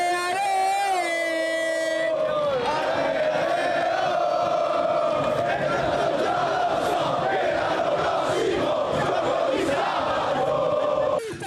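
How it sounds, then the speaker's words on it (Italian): A jubilant crowd fills Prato della Valle square, cheering and chanting for returning football players, with horns tooting at the start and a steady roar of voices throughout. "accolti da una folla in"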